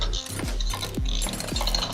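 Ratchet wrench clicking rapidly as it loosens engine head bolts on a special twin-cam engine in Car Mechanic Simulator, several bursts of dense mechanical ticks in close succession with no talking.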